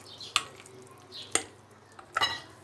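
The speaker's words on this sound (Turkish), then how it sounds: "Robottan çekmiş olduğumuz yumurta ve yağ karışımını yavaşça mercimeğimizin içerisine karıştıra karıştıra" Egg and oil mixture being stirred into red lentil batter, three distinct spaced scraping strokes of a utensil against a bowl, close and clear with quiet gaps between and no talking.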